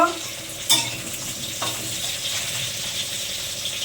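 Bay leaves hit hot oil in a pressure cooker at the start of a mutton and potato curry, a steady close sizzle with a couple of metallic clinks from a utensil, no voices.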